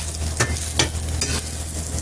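French toast fries in butter in a pan, a soft steady sizzle broken by a few sharp scraping strokes as the slice is pushed around, with a low hum underneath.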